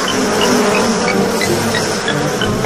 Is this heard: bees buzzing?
yes